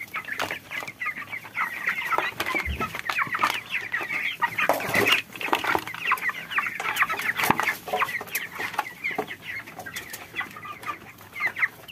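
Hungry white broiler chickens, 26 days old, cluck and chirp busily as they are fed. Their dense, overlapping calls go on throughout, close by, with occasional bumps and taps of handling.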